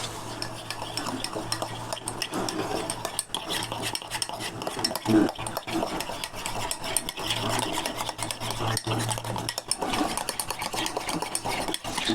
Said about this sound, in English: Now we're going to go ahead and mix this up.